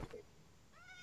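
A small cat in the Minecraft video game gives a short, high meow near the end of a brief moment, faint and clear, with no talk over it.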